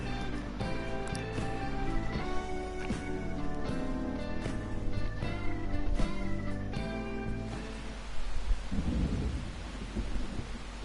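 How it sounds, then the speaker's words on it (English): Rain and thunder in the video game Persona 5, a steady wash of rainfall under a rolling thunder rumble, fairly quiet, with music-like tones in the first part. "Rain, huh?"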